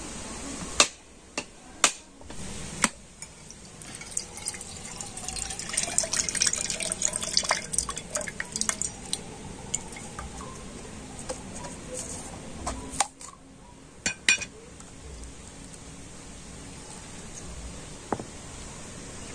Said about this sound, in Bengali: তো প্রথমে আমি নারকেলটা ফাটিয়ে নেব।